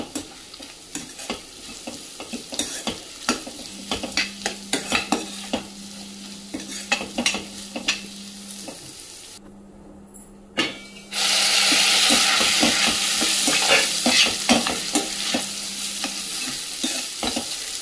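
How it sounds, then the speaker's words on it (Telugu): Beetroot pieces frying in a pan, a continuous close sizzle with frequent clicking stirs of a utensil, briefly dropping out before the frying swells louder and steadier. "ముక్క మగ్గే వరకు సిమ్లో మూత పెట్టుకొని వేయించుకోండి"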